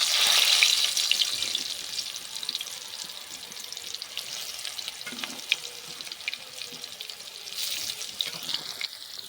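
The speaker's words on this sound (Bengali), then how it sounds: "আলুগুলো তোলা হয়ে গেলে এঁচোড়টা ভেজে নেব" Raw jackfruit pieces fry in hot oil with a steady, hissing sizzle that holds throughout, brighter at the start and swelling again near the end, with no voices.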